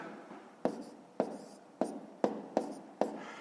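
A pen writes numbers by hand for a column sum in a fifth-grade maths exercise, six sharp, evenly spaced taps and short scratches on paper, close and quiet with no talking.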